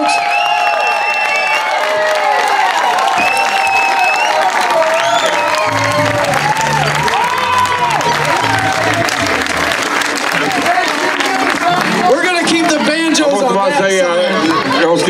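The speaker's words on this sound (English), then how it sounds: "give them a big round of applause, folks." An audience at a string band concert claps vigorously with scattered cheers and whistles, while voices talk over the steady applause throughout.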